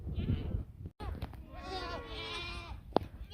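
Goats bleat repeatedly while grazing in a pasture, with several wavering calls overlapping in the second half, loud and close, after a short stretch of rustling and a person speaking at the start.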